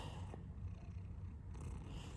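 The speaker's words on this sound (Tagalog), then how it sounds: "Nakaka-inlove kasi itong mga pusa." A cat purrs steadily and close up, a soft continuous rumble with no other sounds.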